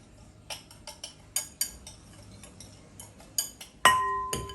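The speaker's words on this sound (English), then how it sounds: "I am going to use a small whisk to combine my dry ingredients" A small whisk taps and clinks against the sides of a bowl while mixing dry ingredients for jerk chicken, giving a string of sharp, irregular ticks up close, ending in a brighter ringing clink.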